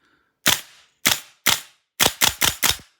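A VFC AR gas blowback airsoft rifle fitted with a real steel buffer fires seven sharp, loud, snappy cracks. The first three come singly with pauses between them, then four follow in quicker succession, against otherwise silent surroundings.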